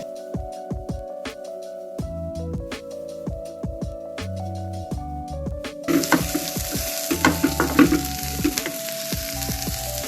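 Scrambled eggs with some soup being stirred and mixed in a frying pan, a steady sizzle with repeated scraping and clinking strokes that grow louder and busier toward the end, no voices.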